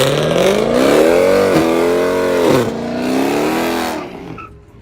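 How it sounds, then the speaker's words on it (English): Street racing car engine revving hard and close, pitch rising and falling through repeated throttle sweeps before dropping off abruptly near the end. "You gonna make your car sing? Yeah, make your car sing."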